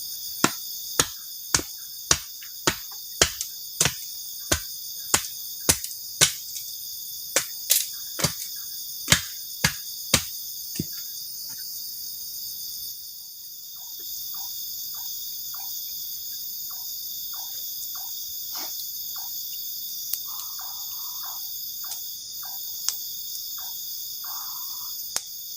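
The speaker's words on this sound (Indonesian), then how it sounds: "menikmati suasana malam, ditemani sama suara jangkrik juga" Crickets chirp through a night campsite, a steady run of sharp, regular pulses up close that thin out midway into sparser, fainter chirps over a quiet background.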